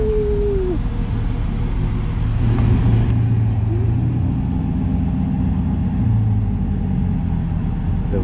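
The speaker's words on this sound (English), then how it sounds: "I'm currently driving the Charger" A Dodge Charger's engine while driving, a steady mid-pitched drone with road rumble heard from inside the car, holding an even level with a brief whine early on.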